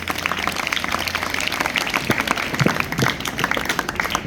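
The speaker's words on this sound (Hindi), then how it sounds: "जोरदार तालियां इसके लिए भी।" Scattered clapping from a school audience at a house activities results event, steady and somewhat thin, moderately close with a faint background hum.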